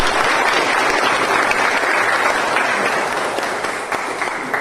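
A meeting audience claps in sustained, dense applause that stays loud and steady throughout, with no voices over it.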